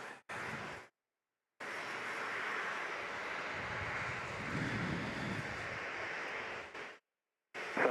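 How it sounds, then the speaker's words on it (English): Boeing 737-700 airliner at Dallas Love Field in snowy weather, a faint, steady jet engine roar heard at a distance, broken by short gaps. "Checking out this 737-700."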